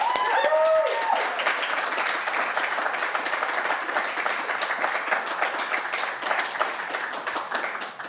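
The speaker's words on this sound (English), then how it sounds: "give all the 5 finalists, those ones, another big round of applause" Audience at a live art startup pitch event applauds the finalists: sustained crowd clapping, moderately loud and steady, with a brief tonal sound at the start.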